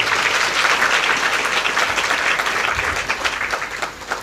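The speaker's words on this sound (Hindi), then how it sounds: "इसके लिए तो तालियों से स्वागत होना चाहिए" Audience applause at a Shrimad Devi Bhagwat Katha religious discourse, with steady dense clapping from a crowd throughout that thins slightly toward the end.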